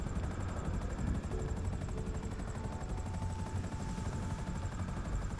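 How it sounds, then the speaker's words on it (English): A helicopter spins up in the video game GTA, giving a steady, moderately loud rotor and engine drone with a rising whine, and no talk over it. "I'm trying to get that chopper started."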